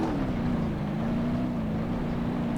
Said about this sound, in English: Pop the clutch, just sits there and roasts the tires.